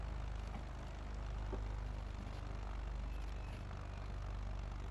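Steady engine drone of a propeller plane in Microsoft Flight Simulator 2024, a continuous low rumble and whir held at constant level throughout, with no voices.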